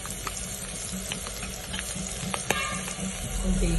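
Green chillies and curry leaves frying in hot oil for a chicken liver fry: a dense, steady close sizzle with occasional spatula scrapes and pops, swelling louder near the end.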